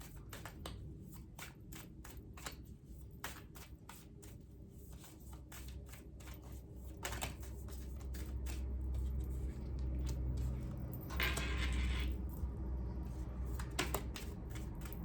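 Tarot cards riffle and flick in repeated quick bursts, close and soft, over a steady low hum with occasional louder slaps of cards landing.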